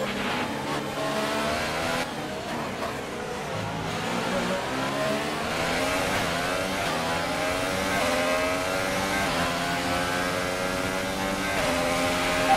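Formula 1 race car in the F1 2018 video game at Le Castellet pulling away from the start line, engine revving and rising through gears with other cars roaring close around, loud and continuous with no talking.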